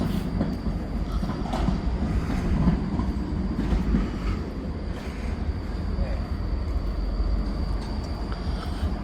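Steady rumble of a train with rail clatter and faint mechanical whine, a continuous noisy station backdrop in Dresden, Germany, with some indistinct voices.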